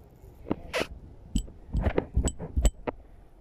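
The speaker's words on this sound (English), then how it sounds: "got a bike bell," Old bicycle bell pulled up by magnet fishing at a boat house, rung by hand in a series of bright metallic dings and clinks, several quick strikes close by with handling noise between them.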